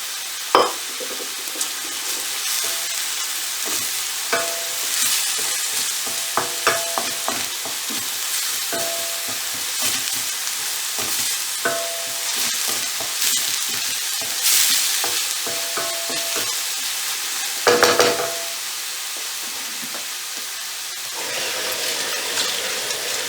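Finely cut leek sizzling in a pan for a scallop risotto, a continuous bright frying hiss broken by stirring scrapes and clatters, close and loud throughout, with no talking.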